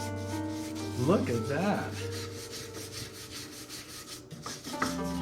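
Scrubbing rust off an antique Japanese cast iron teapot gives close, raspy rubbing strokes in short bursts, with a person speaking briefly over it.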